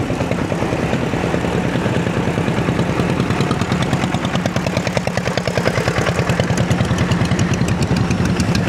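A motorcycle rides on the road between Banshipur and Munshiganj, its engine a loud, close, steadily pulsing drone that runs through the whole stretch without talk.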